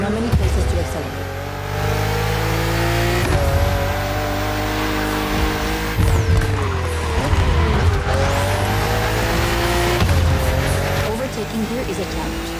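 Race cars in The Crew Motorfest video game tear along a narrow track full of sharp bends, engines droning and revving through shifts with tires squealing, loud and continuous, while a person talks over the action.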